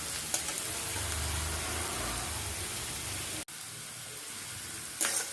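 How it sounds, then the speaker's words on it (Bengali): Tomato sizzles in a pan while pabda fish curry is being made, a steady close fry hiss that briefly cuts out, then resumes with a small clank. "এবার এর মধ্যে একটু টমেটো দেবো।"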